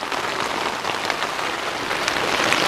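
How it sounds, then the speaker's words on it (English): Heavy rain pours down at a back-country camp in Labrador, a dense, steady hiss of drops hitting nearby surfaces, loud and continuous with no voices. "It's not too bad anyways, the rain's coming from this side."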